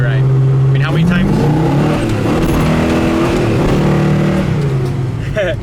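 A 1969 Chevrolet Nova big block with a 4-speed and low gears accelerates hard, its engine note climbing in loud revving sweeps close by, while people talk over it.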